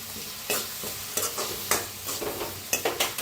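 Turmeric and coriander roasting in a pan with brinjal masala, a low steady sizzle broken by several sharp scrapes and stirs of a spoon, close by with no voices.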